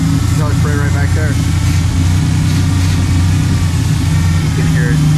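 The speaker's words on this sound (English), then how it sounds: "You hear the engine RPM come up." A 1991 Ford Ranger engine idles steadily with a vacuum leak, its low rumble close and loud, the revs lifting slightly as the idle climbs; someone speaks briefly over it.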